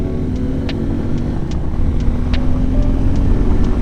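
Honda Goldwing motorcycle passing on a highway, heard from a riding motorcycle as a steady loud engine and wind roar with a few sharp ticks over it.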